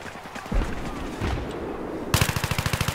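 Rapid automatic gunfire in Battlefield 3 multiplayer, scattered shots followed by a fast, steady burst of rounds close by, with brief talk mixed in.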